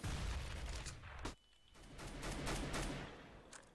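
Bursts of automatic gunfire in the video game CS:GO, a Jailbreak match, crackle in rapid volleys, fairly faint and dense, with a brief lull in the middle.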